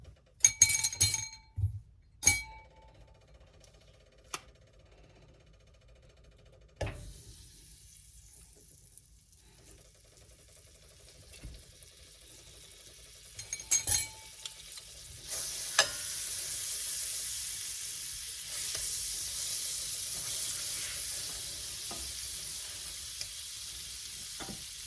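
Hot oil in a new pan before garlic goes in, with a few sharp clinks and knocks of cookware early, then a rising, steady sizzle of frying that fills the second half.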